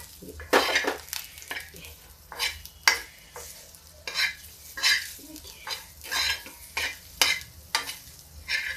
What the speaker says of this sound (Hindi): अब इसको धीमी आंच पे हम गुलाबी कलर का भून लेंगे